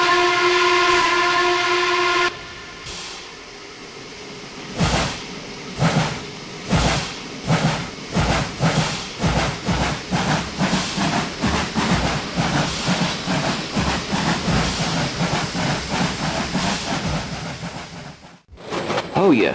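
A J Class steam train sounds a long whistle, then passes close by with a rhythmic series of heavy chuffs and wheel clatter that speed up and blur together, ending in a brief hiss.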